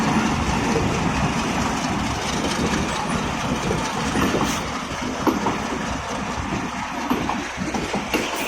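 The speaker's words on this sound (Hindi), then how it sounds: "ये सर सैयद एक्सप्रेस रास लॉजिस्टिक का लोगो।" The Sir Syed Express passenger train rolling past at close range in Faisalabad: a continuous loud rumble of coaches with rhythmic wheel clatter over rail joints, sustained throughout without speech.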